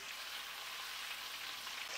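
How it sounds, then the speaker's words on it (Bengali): Chicken leg pieces fry in hot oil in a pan, giving a steady, soft sizzling hiss that stays even throughout with no voices. "আমি চিকেনগুলো এরকম পরপর ভেজে নেব, একবারে আমি সব দেবো না"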